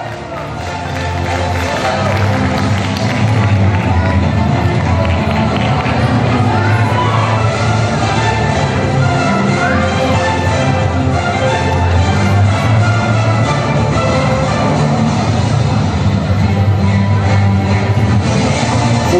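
A large crowd claps and cheers continuously at a high school tournament trophy ceremony, a dense wash of applause and shouting that stays loud throughout.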